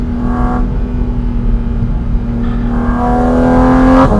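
A Porsche Cayman GT4 RS, its 500 bhp flat-six revving toward 9,000 rpm on an Alpine pass, holds a loud steady howl, then climbs in pitch near the end, with no talking.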